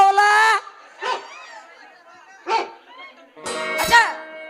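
Dogs barking on a road during a comedic folk stage play: four loud, close, harmonic bursts with short silent gaps between them, alongside crowd noise.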